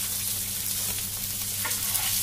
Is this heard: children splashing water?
no